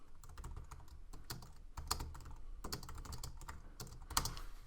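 Typing a comment into a blog reply box on a computer keyboard, a steady run of close, crisp key clicks with irregular bursts and slightly louder strokes now and then, no voices.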